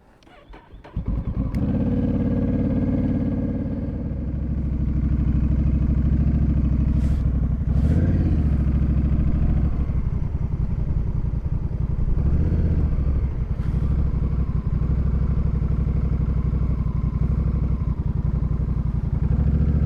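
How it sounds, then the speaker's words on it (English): A Honda Rebel 1100 motorcycle fitted with Viking touring saddlebags starts up and rides off, its engine a loud, steady rumble close by that rises with throttle and holds for the rest of the run. "let me take the bike out for a spin so that you guys can see it in motion"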